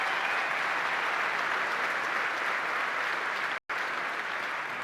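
Audience applause at a Chilean political face-to-face event, continuous dense clapping from a crowd, briefly cut off by a short silent gap near the end.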